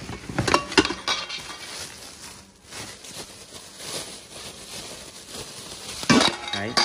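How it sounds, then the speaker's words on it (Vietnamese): A six-piece set of metal cookware pots is handled and set out, giving clanks, clinks and clattering knocks, busiest at the start and again near the end, with quieter scraping between. "một cái bộ nồi của nó cho chúng ta đó là 6 món"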